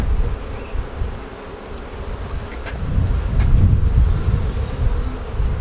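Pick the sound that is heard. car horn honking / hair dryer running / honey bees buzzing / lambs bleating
honey bees buzzing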